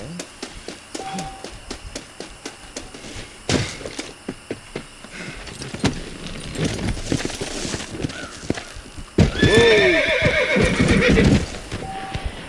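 A horse in Red Dead Redemption 2 whinnies loudly several times, with clip-clopping hooves and scattered game sounds around it, the biggest neigh bursting near the end.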